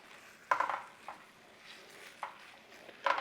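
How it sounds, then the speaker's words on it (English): Sugar, water and strawberries are stirred in a pan, giving a few scattered scraping clinks of a utensil against the pan with quiet gaps in between. "And then just give that a mix."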